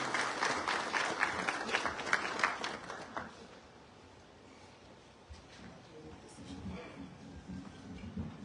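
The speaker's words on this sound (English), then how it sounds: "Let's give him a round of applause, ladies and gentlemen" An audience at a risk management awards ceremony applauds steadily for about three seconds before the clapping fades. Quieter murmurs and a voice follow.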